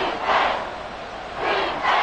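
Football stadium crowd cheering during a fourth-quarter third-and-goal, a broad roaring swell that rises, dips, then surges again in two more loud waves, with no talk over it.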